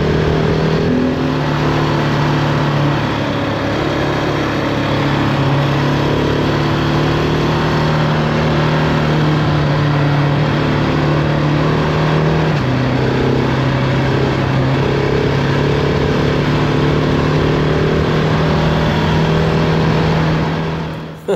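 A GasGas ES 700 motorcycle rides down a road toward a winter-closure gate, its engine droning steadily and loudly at a near-constant pitch for the whole stretch, with only slight shifts in tone and no talking.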